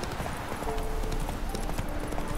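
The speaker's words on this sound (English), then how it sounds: "I call my horse this time" Horse hooves clip-clopping in the video game The Witcher 3, a quick, fairly soft run of hoof beats that continues throughout, with no voice over it.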